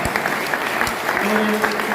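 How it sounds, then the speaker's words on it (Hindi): Audience applause fills a business gathering, dense steady clapping for the whole two seconds with a faint tonal voice or music line running beneath. "ताली जोरदार वाली बजाइए"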